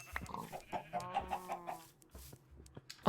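Chickens cluck in Minecraft with the Create mod, a run of close, clear pitched clucks and short calls in quick succession, ending in a sharp louder burst.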